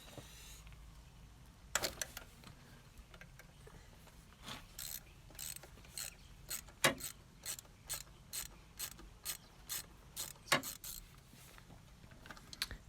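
A ratchet and socket set loosening bolts on a Nissan Micra K11 during alternator belt replacement: a long run of crisp, evenly spaced ratcheting clicks close by, in steady strokes with short pauses, and no voices.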